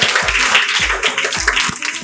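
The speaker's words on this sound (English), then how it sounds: "Clap for them guys!" A crowd claps for two students, Anshika and Unnati, promoted into a new batch at a coaching academy; the brisk, continuous patter of many hands runs over a steady thudding beat in the background.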